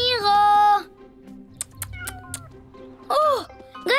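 A cartoon cat gives a long meow, then a short pause, then rising, wavering meows near the end, mixed with light thumps and background sounds.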